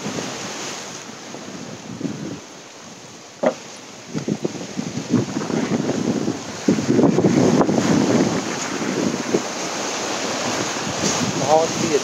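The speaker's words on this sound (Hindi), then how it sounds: "यहाँ से काफ़ी अच्छी लहरें उठ रही हैं अभी।" Sea waves rolling in at an old jetty by a lighthouse on Ross Island, with strong wind buffeting the microphone; a continuous loud wash of surf that swells midway and stays heavy to the end.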